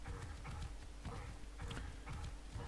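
Horse hoofbeats while riding through a forest in the video game Ark, a steady, faint clip-clop rhythm over a low rumbling background.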